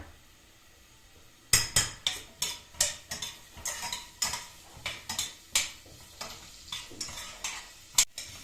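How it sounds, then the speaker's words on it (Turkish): Potatoes and carrots sautéing in a pan, with a steady run of close, sharp stirring scrapes and clatters against the pan over a low background sizzle, after a quiet opening. "Burada da patatesimle havucum var. Şimdi onları önce bir güzelce kavurayım."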